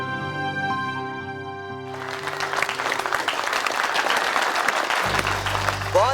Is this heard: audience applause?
yes